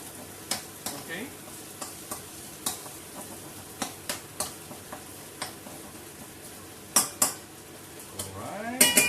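Minced meat stir-fried for ma po tofu sizzles in the pan, with irregular sharp taps and scrapes of a utensil against the cookware over a steady frying hiss, close and clear.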